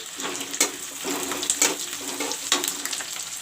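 Bay leaves dropped into hot cooking oil for a pea and potato masala dish, giving a steady close sizzle with a few sharper spits and pops, and no talking.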